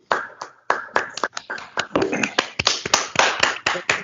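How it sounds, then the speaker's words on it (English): Sparse, polite golf-clap applause from a small group at a virtual happy hour, a few hands tapping in uneven rhythm for about four seconds, close and fairly loud with no speech over it. "Clap, golf clap."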